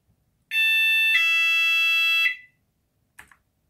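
A cheap wireless doorbell triggered by a replayed 433 MHz radio signal from a Raspberry Pi plays a loud, close two-tone ding-dong chime, ringing and fading, followed by a faint short click.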